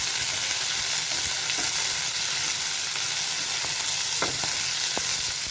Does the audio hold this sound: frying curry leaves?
yes